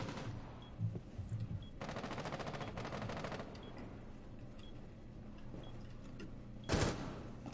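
Gunfire from a first-person shooter game: bursts of rapid automatic fire and a sharp shot near the end, heard at moderate level over a steady game background with no voices.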